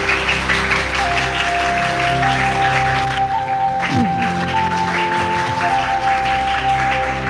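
Schoolchildren in a primary school classroom clap after a teacher tells them a story. Dense, loud applause fills the whole clip under a steady background hum, with a brief thud partway through.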